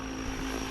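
RC model helicopter hovering, a steady buzzing rotor and motor whine held at an even level throughout a very short stretch, with no voices.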